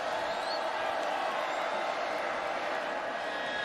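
A stadium crowd at a Central Michigan at Oklahoma State college football game roars in a steady, distant wash of cheering, with a commentator talking over it.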